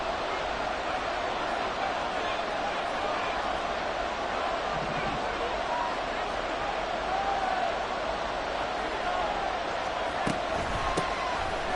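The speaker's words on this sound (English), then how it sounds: "the crowd getting into it as we come up on a big 3rd down" Stadium crowd in Madden 24 during a Bills vs Jets game, a steady wash of cheering and murmur building ahead of a big third down, continuous and fairly loud with a brief sharp thump near the end.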